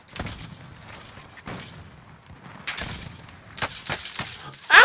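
Gunfire in Call of Duty: Warzone: scattered sharp shots, some in quick pairs and some spaced out, fairly close, ending in a louder burst, with no talking.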